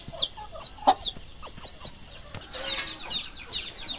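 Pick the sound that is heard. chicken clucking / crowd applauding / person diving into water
chicken clucking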